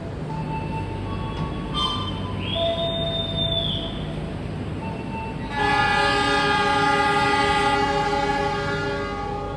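The Pandalungan executive passenger train departs Rambipuji in Jember Regency with a loud, sustained horn blast and a steady rumbling hum from the rail cars.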